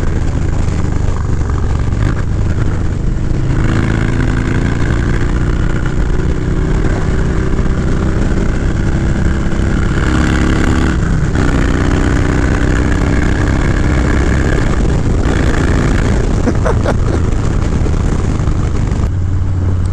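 Harley-Davidson Dyna motorcycle engine heard while riding, a steady loud low rumble with a continuous throb and slight rises in revs, wind noise mixed in, no talking.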